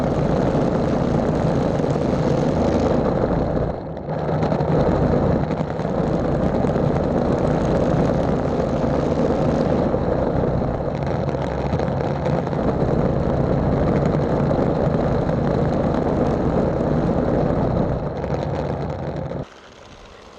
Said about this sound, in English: we're moving the opposite direction of the way that the trimmer usually turns. We're idling against the fence line